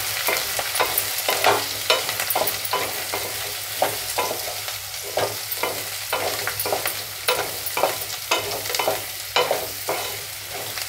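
Thinly cut raw papaya and fresh coconut are stir-fried and mixed in a pan. Steady sizzling runs under a regular rhythm of scraping, clattering spatula strokes, roughly one or two per second, close and alone without any talk.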